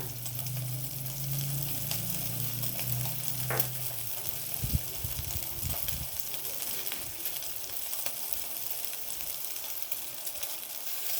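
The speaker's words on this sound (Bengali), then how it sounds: "সসেজগুলো আমার বেশ হালকা ভাজা হয়ে গেছে।" Chicken sausages sizzle steadily in a frying pan, a soft continuous crackle with a low hum in the first few seconds and a few stirring knocks, heard alone without talk.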